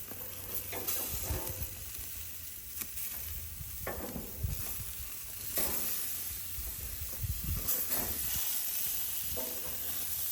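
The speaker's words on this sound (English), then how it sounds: "I'm going to turn these pork chops over." Pork chops sizzle on a grill with a steady, close frying hiss, broken by a few louder crackles and pops as they are turned; no talking.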